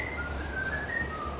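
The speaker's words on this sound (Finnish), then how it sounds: "Kuka viheltää?" A person whistles a wavering tune while out on a trip in Crete, the clear whistle carrying steadily over a low background rumble for a moment, with no talking.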